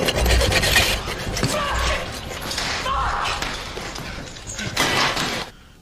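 A blunt hacksaw rasps back and forth against a padlocked chain in a film scene, a continuous gritty scraping with uneven strokes, loud and close, ending abruptly.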